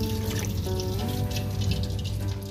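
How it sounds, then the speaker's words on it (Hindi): Two litres of water are poured into a cooking pot holding chicken feet, onion and spices for broth, producing a continuous close splashing, trickling flow throughout. "और अब हम इसके अंदर 2 लीटर पानी ऐड करेंगे।"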